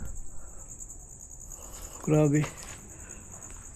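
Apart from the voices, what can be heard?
crickets chirping at abandoned village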